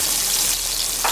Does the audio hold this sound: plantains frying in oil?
yes